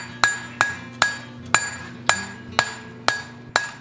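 A hammer strikes hot steel on an anvil while texturing a forged fireplace poker handle: eight loud, ringing blows in an even rhythm, each with a short metallic ring, close up and with no talking.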